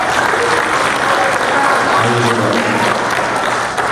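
Applause from an audience at an Isra' Mi'raj sermon held at a consulate hall, a dense steady clatter of hands lasting several seconds, with a voice briefly sounding partway through.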